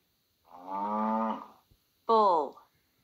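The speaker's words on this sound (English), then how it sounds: "Bull." A bull gives two moos, a longer low call followed after a pause by a shorter, brighter one, both close and alone.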